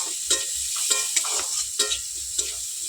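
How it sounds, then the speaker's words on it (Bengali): Lentils with turmeric sizzle in hot oil as a spoon stirs and scrapes the pan in quick, uneven strokes. The frying hiss stays continuous and close between the scrapes. "হলুদ দেবো ভালো করে তেলের মধ্যে একটু নেড়ে চেড়ে ডালটাকে ফের ভেজে নেবো"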